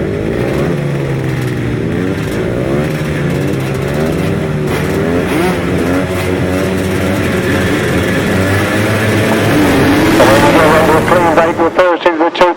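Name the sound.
grasstrack racing motorcycles starting 250 class race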